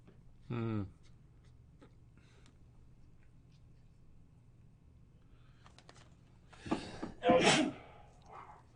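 A single short sneeze, sharp and close, followed by a quiet pause and then people talking and laughing nearby.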